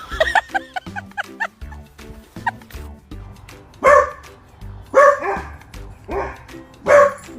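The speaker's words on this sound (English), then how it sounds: "Whatever could you be barking" A dog barks in loud, repeated bursts, with several sharp barks spaced roughly a second apart over a steady background of music.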